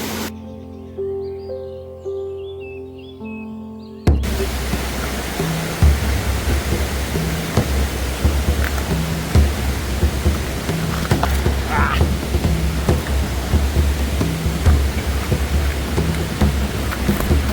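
Steady broadband rushing of a hidden waterfall and stream near a village called Kamthe, continuous and fairly loud after a brief quieter tonal opening, with no talk over it.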